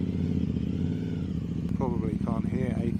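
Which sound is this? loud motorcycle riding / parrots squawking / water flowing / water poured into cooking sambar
loud motorcycle riding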